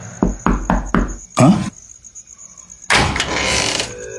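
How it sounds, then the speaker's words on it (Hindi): A door knocked on four times in a quick even rhythm as an audio drama sound effect, crisp and close, followed by a louder thump, then a rustling shuffling noise, with a faint insect-like background hum. "अचानक कोई उसका दरवाजा खटखटाता है।"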